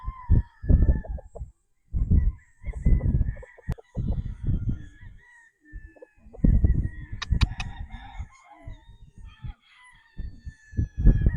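Sweater gamefowl roosters crow and cluck close by, several harsh crowing calls and clucks in irregular bursts with brief quiet gaps between them.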